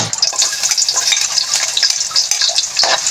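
Garlic fries in hot oil in a pan with a loud, continuous close sizzle full of crackling pops, heard alone without any voices.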